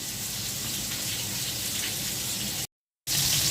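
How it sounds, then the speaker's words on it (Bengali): Rohu fish frying with onion, garlic, green chili and salt in a pan, a dense even hiss of hot oil heard close, broken by a brief silence before resuming. "মাছগুলো হালকা ভেজে নিলাম।"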